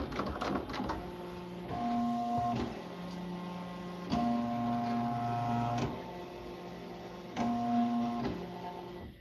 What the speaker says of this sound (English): I trace the design as well to know the exact area that it's going to be stitching